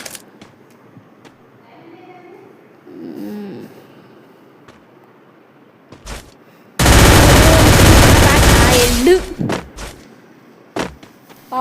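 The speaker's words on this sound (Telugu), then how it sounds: "నాకైతే ఇప్పుడు ఏ గన్ వాడతా అంటే MP5 వాడతా." MP5 submachine gun firing in a video game: a long, dense burst of rapid automatic gunfire lasting about four seconds, loud and close, surrounded by quieter stretches with thumps and a few muffled voices.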